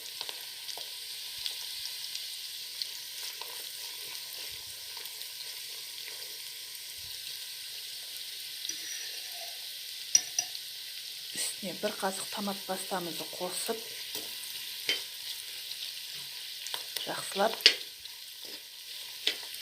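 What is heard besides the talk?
onion and grated carrot frying in a pan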